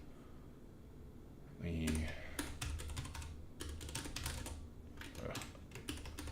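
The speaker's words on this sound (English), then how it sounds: "we're going to type in" Fast, uneven keystrokes on a computer keyboard as a long password is entered, clicking clearly and closely after a brief spoken word, with short pauses between bursts.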